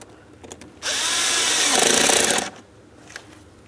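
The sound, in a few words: tightening hose clamp on air filter housing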